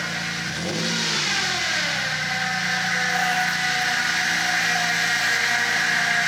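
Engine of a first-generation Toyota Tacoma fitted with a solid axle kit, revving up from idle into a loud, sustained mid-pitched roar that holds steady, heard close with no talking.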